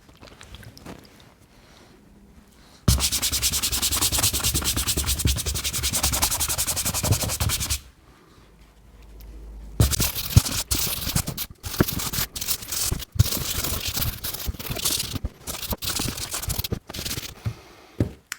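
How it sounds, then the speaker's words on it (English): Vigorous brush scrubbing on suede boots, a steady loud rasping block of strokes, then a pause with a low hum and more scrubbing with sharp irregular strokes, no talking. "all I'm going to do is give them a good scrub all over"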